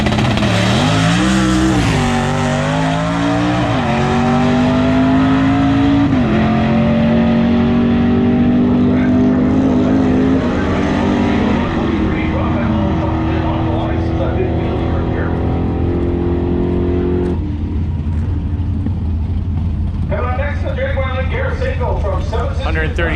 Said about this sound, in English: This might be a double Nova wheels up launch here.